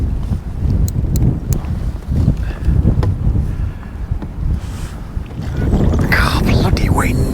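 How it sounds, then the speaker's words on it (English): Strong wind buffets the microphone beside a fishing lake, a loud, continuous low rumble that swells toward the end; faint clicks and rustles sit underneath. "God, bloody wind."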